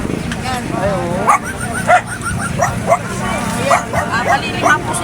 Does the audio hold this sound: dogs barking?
yes